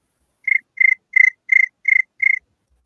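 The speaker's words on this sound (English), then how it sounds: "Do the cricket sound, Chop." Six evenly spaced cricket chirps, each a short buzzy trill, ring out clearly against silence as a comic sound effect.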